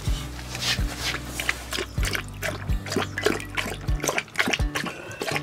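Fresh water is poured out for a dog in a bunker, a steady liquid trickle and splash with drips running throughout, fairly close, under light background noise.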